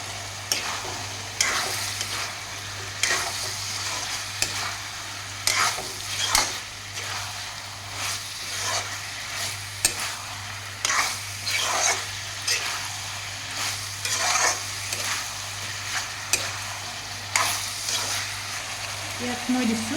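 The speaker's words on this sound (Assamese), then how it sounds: "এইখিনি অকণমান লৰাই লওঁ।" Chicken curry, Assamese style, made with half a kilo of meat, garlic and ginger, is stirred in a sizzling pan. Rhythmic scraping strokes cut through a steady frying crackle over a low constant hum, with no voice.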